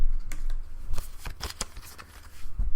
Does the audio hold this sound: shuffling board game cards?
yes